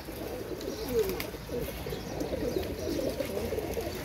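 Pigeons on a rooftop loft, green and Chinese-type birds among them, coo in a low steady rolling murmur, several voices overlapping at moderate distance.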